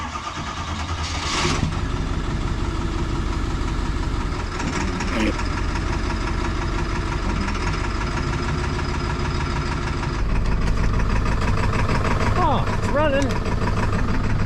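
A tow truck's engine idles steadily with the PTO engaged, a continuous mid-pitched diesel rumble running throughout while someone talks over it.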